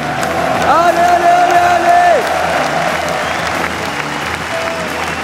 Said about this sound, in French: Tout le monde debout, on les applaudit.